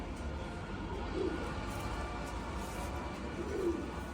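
Two soft, low coos from a Teddy pigeon, one early and one near the end, against a steady background hum.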